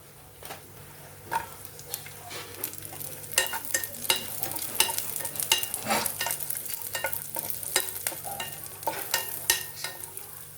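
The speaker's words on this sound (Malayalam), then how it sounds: "അണ്ടിപ്പരിപ്പ് പകുതി മൂത്ത് കഴിയുമ്പോൾ കിസ്മിസ് ഇടാം" Cashews and raisins fry in ghee in a pan, giving a soft, quiet sizzle with frequent sharp scraping and tapping as a spoon stirs them.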